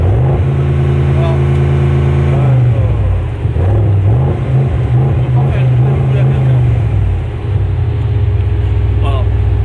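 A car engine revs hard and repeatedly bounces off a limiter at 3000 rpm, the loud droning note rising, holding, dipping and climbing again up close, with someone talking over it.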